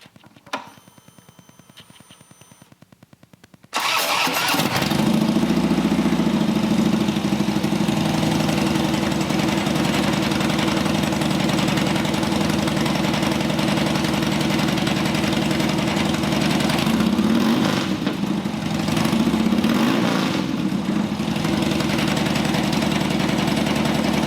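A Dyna Street Bob motorcycle fitted with an HPI 2-in-1 exhaust fires up after a few quiet seconds and settles into a loud, steady, rumbling idle that holds close and unbroken to the end.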